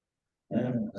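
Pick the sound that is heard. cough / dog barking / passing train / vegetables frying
dog barking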